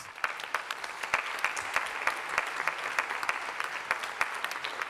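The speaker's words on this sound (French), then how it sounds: "je pense qu'on peut applaudir tous les enseignants qui sont dans la classe" Audience applauding the teachers at a conference opening about dyslexia research, a crisp, sustained patter of many hands clapping, fairly soft and somewhat distant, without speech.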